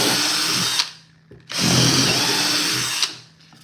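A Ryobi power drill whines loudly in two bursts, the motor running under load for under a second, pausing briefly, then spinning again for about a second and a half before winding down.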